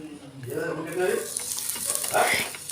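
A drop of oil hitting a hot dosa pan on the stove, a close sizzle and crackle that swells and fades with spreading and wiping movements.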